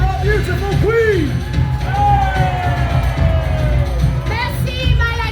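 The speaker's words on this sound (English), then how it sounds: "Lancastrians, a cheer for our beautiful queen!" A crowd of spectators at a live jousting show at Warwick Castle cheers and whoops loudly, with shouts and voices rising and falling throughout, children's cries mixed in.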